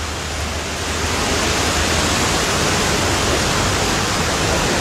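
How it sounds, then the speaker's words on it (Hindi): Heavy monsoon rainwater pours and rushes into shops in Una during the season's first downpour, a loud, steady broadband roar of flowing water that never lets up. "और ये देखिए पानी अंदर तक मार कर रहा है।"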